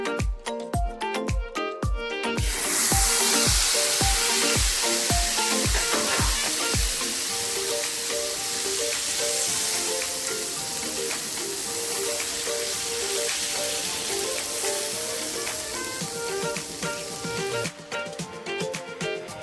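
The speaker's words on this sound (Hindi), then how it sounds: "थोड़ा सा भूनने के बाद इसमें शामिल करेंगे चटनी जो पहले से हमने बनाई थी।" Bottle gourd frying in a pan with chili powder, sizzling loudly and steadily for the whole stretch after a run of rhythmic clicks or taps at the start, close by with no talking.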